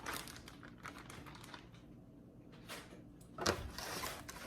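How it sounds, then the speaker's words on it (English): Soft crinkling and rustling of a plastic bag holding marinated country-style pork rib meat, handled close by, with scattered clicks and a louder crackle toward the end. "get our country style rib meat out of this plastic bag"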